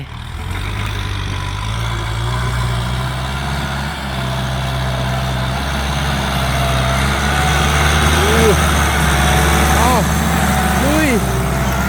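Farm tractor driving across a dug cassava field, a loud steady heavy engine drone throughout with people talking over it.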